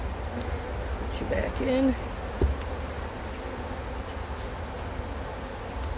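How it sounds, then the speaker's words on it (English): Agitated honey bees swarm around an opened hive, a steady dense insect buzz filling the air with a few louder passes close by and brief speech in the middle. "Check out the bees, guys. They're really not pleased."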